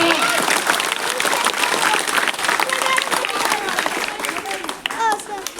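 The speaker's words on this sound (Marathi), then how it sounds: "त्याला मोठ्याने टाळ्या" Loud applause from a crowd of schoolchildren and teachers for a student at a school gathering, sustained dense clapping with voices and chatter audible throughout.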